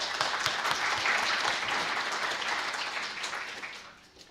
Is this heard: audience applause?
yes